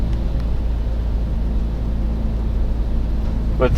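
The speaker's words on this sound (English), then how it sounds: "You of course hear the exhaust rumble on the background. Very typical for a 4-cylinder engine." A steady, low four-cylinder engine rumble from the exhaust of a 2021 Mercedes-AMG GLA 45 S while driving, continuous and droning, with a faint wash of road noise.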